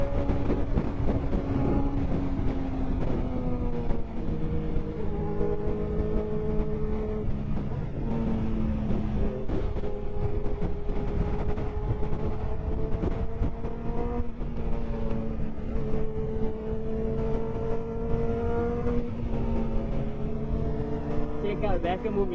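A Honda CBR600F superbike chasing a Kawasaki ZX14 at sunset, engine drone loud and continuous with shifting pitch as revs rise and fall, heavy wind rush throughout.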